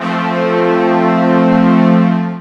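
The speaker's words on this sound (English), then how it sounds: "I've selected a sample of a brass instrument here" A single sustained brass note rings out loud and steady, rich in overtones, holding for a couple of seconds before fading slightly.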